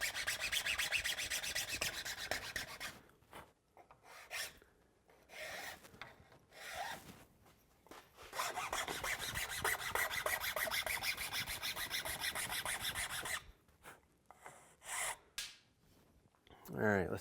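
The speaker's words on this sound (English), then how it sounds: "I'll finish it off with a 1/8" chainsaw file" Repeated rasping strokes of a 1/8-inch chainsaw file on a maple wood bow, long runs of steady scraping broken by short pauses, close and moderately loud.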